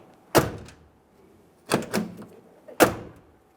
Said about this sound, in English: let's just test the door functionality one last time